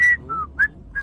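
A man whistles a short tune of four brief, clear notes, separated by short gaps, loud and close with no other sound.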